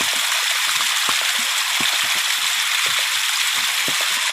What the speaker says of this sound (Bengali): বৃষ্টির শেষে আমি একটা জায়গা থেকে জল পড়ছে, সেটাই আমি ক্যাপচার করলাম।